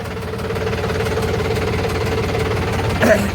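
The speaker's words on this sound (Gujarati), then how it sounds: "આજે મેં અહીંયાથી ઉતાર્યું છે ટ્રેક્ટર જોઈ લો" Tractor engine running on a farm track beside a highway, a close, steady low-pitched rumble with rhythmic knocking pulses, plus a brief louder clatter near the end.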